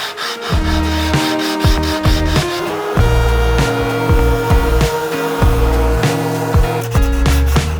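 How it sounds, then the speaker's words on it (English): A small handheld power sander works over glued wood in an upcycling project, a steady loud motor whine with a grinding rub that shifts in pitch as pressure and strokes change, close and continuous. "Grab this handy little sander I got for a stocking stuffer."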